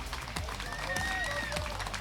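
An audience claps steadily throughout at a music school open day in Freyming-Merlebach, a sustained round of applause from a hall crowd, with a voice faintly heard underneath.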